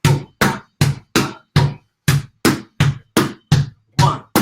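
Sharp, dry strikes on STOMP-style junk percussion, about a dozen evenly spaced hits in a steady clave-like pattern with one short pause midway, played close and alone.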